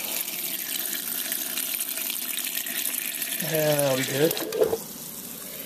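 Water runs from a kitchen tap into a container until it is half full, a steady close hiss with a rising gurgle as it fills, then it stops. Someone speaks briefly over it.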